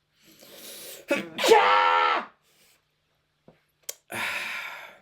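A single sneeze bursts out after a sharp intake of breath, followed by a brief pained exclamation.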